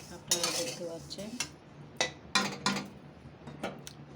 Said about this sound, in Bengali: বন্ধুরা দেখুন আমি নাড়াচাড়া করে নিয়েছি এখানে ভালো করে ভেজে